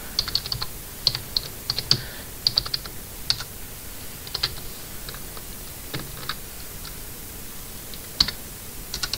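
Quick, irregular clicking of keys on a computer keyboard as text is typed, with light taps in short bursts, close and fairly quiet.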